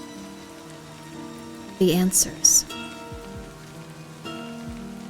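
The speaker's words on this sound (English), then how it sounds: "The raindrops fall on the paper, landing with soft patters" Steady rain falls in the indie horror game Smoke and Mirrors, a soft continuous patter under a speaking voice, with a few brief louder bursts midway.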